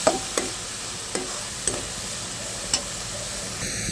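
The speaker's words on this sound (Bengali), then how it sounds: "সব মশলা এখন একসাথে আমি সুন্দর করে কষিয়ে" Cumin, coriander, chili and turmeric sizzle steadily in a pan for a fish dish while a utensil stirs them, tapping the pan in sharp, evenly spaced knocks over a continuous frying hiss.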